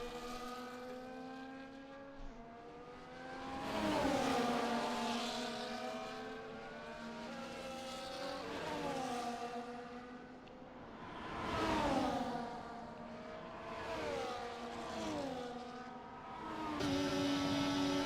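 Several race cars roar in a sim racing game at Miami as a Ferrari overtakes an Alpine. Engine notes climb and drop with each gear change, loud and close, with layered cars overlapping.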